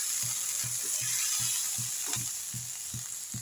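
Water splashes into a pan of beetroot and chana dal as it cooks, giving a steady bright sizzle with soft, evenly spaced low thumps of stirring underneath, close and fairly loud throughout.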